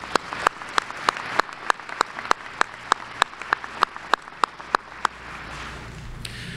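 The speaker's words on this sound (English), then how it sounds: "Please join me in acknowledging them with a round of applause." Applause for school staff at a 2024 Joliet Catholic Academy graduation ceremony: a thin, steady run of distinct, evenly spaced handclaps that stays moderately loud, then trails off and stops near the end.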